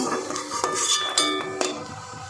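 Metal utensils clink against a wok while lifting crisp fried pasta out of hot oil, a few close bright knocks and scrapes over a soft frying hiss.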